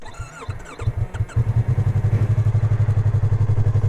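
A small parallel-twin motorcycle engine sits in neutral on a hill: a few uneven blips and clatter at first, then it settles into a loud, steady, close-up idle with a fast regular pulsing beat.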